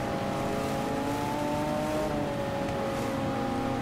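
A Honda NSX JGTC race car in Gran Turismo, its engine holding a loud, steady high-revving drone with smooth pitch shifts as it races close behind other cars, no voices.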